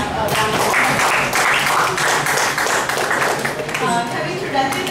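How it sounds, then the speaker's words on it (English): A room audience at a speech evaluation session applauds after an evaluation speech, giving a few seconds of close, dense clapping with some voices mixed in. "Let's have a round of applause."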